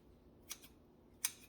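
Kitchen scissors cutting up a skinned rotisserie chicken make two quiet, crisp snips about three-quarters of a second apart, with near silence between them.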